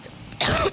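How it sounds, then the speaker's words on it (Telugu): One short, sharp cough from a person suffering from a cough and fever bursts out close by, lasting only a fraction of a second after a quiet moment. "దగ్గు గైస్, దగ్గు జ్వరం."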